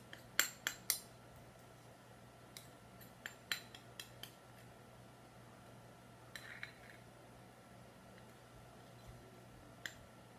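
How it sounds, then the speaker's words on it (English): A small spoon scrapes the last honey from a bowl: faint, scattered metallic clinks and ticks in a quiet room, bunched at the start and then spaced sparsely. "I'm gonna use my tidy little spoon to scrape the rest of the honey out so I don't waste any of it."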